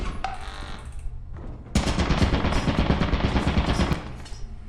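An automated turret firing in a co-op horror video game: after a quiet start, a loud, rapid, sustained burst of gunfire erupts and rattles on for a few seconds before trailing off.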